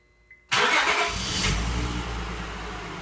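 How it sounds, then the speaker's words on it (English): A car engine cranks and fires up by remote start through a Compustar starter, then settles into a steady, loud idle close by. "Let the vehicle remote start and confirm a couple of things."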